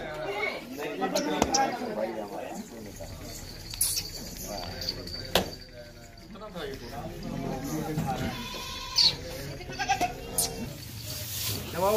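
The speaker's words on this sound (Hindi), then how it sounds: "बकरियां हैं सारी, इसमें मेल हैं सारी, फीमेल अभी डाल देंगे।" Goats bleat repeatedly while being loaded onto a truck, several overlapping animal calls near and far under steady talk from people nearby.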